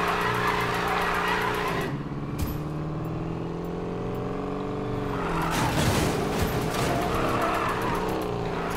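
Car drifting in Need for Speed Payback, with a steady engine drone and long tire squeal running throughout, swelling into a louder screech around the middle and holding close and prominent to the end.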